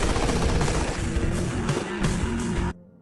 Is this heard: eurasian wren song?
no